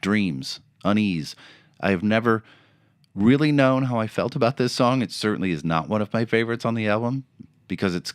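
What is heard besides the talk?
No everyday noise stands out behind the speech.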